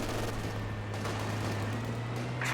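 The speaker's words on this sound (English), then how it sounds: "Double LMG 42s now" MG 42 light machine guns firing in Company of Heroes 2, a steady stream of rapid bursts under a constant low droning hum, with no talk.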